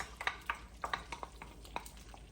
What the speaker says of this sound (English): you're gonna go ahead and you're gonna mix it up